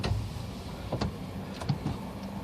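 A car's electric power window whirs as it opens, a low motor hum running steadily beneath a few faint clicks and cabin rustles, close inside the parked vehicle.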